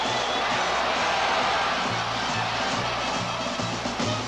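A stadium crowd of 58,000 at a college football game roars in sustained cheering, a dense wash of voices with a low rhythmic thumping underneath, steady and loud throughout.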